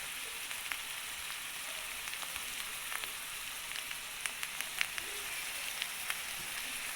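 Chicken sautéing in oil with cumin and coriander paste for a Bengali chicken kosha, a steady close broadband sizzle with small crackles and pops throughout, no talking.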